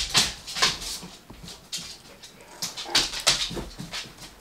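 Dogs in a home whimper and yip in short, high, repeated cries, several close bursts spaced across a few seconds with quiet gaps between them.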